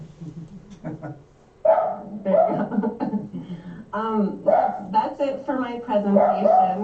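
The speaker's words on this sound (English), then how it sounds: "oh, I'm sorry, that's my dog." A pet dog barks and yips close by in short bursts, mixed in with someone speaking at a livestreamed township meeting.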